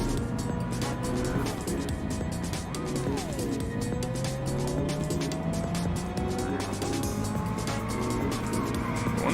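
Race car in the video game Inertial Drift, its engine droning continuously with a rising and falling pitch sweep and tire squeal, loud and close throughout.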